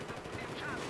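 Shotgun fire in the Metro Conquest video game, a burst of sharp muffled blasts, faint and brief, with a player's voice nearby.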